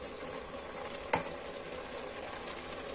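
Meat frying in a pan with coarsely chopped garlic, bell pepper and chili pepper, a steady soft sizzle with one brief sharp clack partway through.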